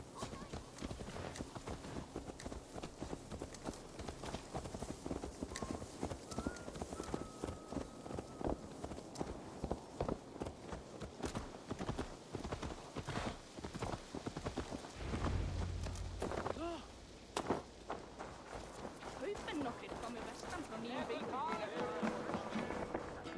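Horse hooves in the video game Assassin's Creed Valhalla clip-clop in a quick, steady rhythm for a long stretch, briefly interrupted before the trotting resumes, with voices occasionally talking over it.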